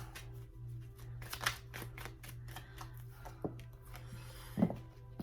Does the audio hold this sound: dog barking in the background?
no